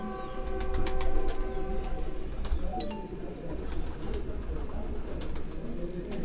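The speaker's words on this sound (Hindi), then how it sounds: "ये है क्रॉस ब्रीड में तैयार हुआ हुआ कबूतर है" Cross-bred pigeons coo softly amid a busy outdoor backdrop, their low calls mixed with scattered clicks, rustling and faint background noise.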